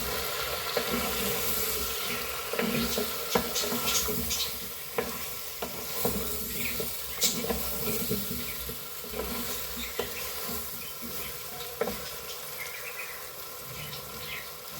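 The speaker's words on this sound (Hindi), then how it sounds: "मसाले की आवाज़ चेक करें, कितनी मज़े की लग रही है।" Spices frying in a pan for a potato and eggplant curry, a continuous sizzle with scraping stirs and light clicks of a spoon against the pan, close up and without speech.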